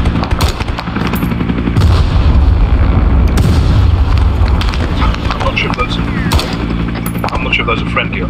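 Explosions and gunfire fill the military shooter ArmA 3 in a loud, busy battle soundscape, with sharp bursts and booming blasts at irregular intervals over a constant rumble. Voices are heard through it.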